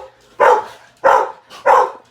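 Three loud, close dog barks spaced about half a second apart, sharp and clear against an otherwise quiet room.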